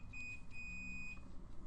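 A single electronic beep, a thin steady tone with a brief break, lasting about a second over a low background hum, fairly quiet and with no voices.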